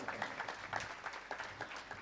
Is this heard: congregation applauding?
yes